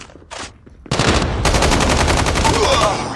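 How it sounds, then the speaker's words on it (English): Rapid M16 burst-fire gunshots in Call of Duty Mobile, loud close-up volleys of sharp shots firing in quick clusters one after another over about two seconds. "M16 is a burst fire weapon."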